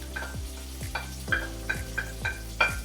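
Tomatoes and fresh basil go into olive oil in a pan for pasta with walnuts and datterini tomatoes, giving a sizzle broken by repeated stirring scrapes and soft knocks in an uneven rhythm, close and moderate.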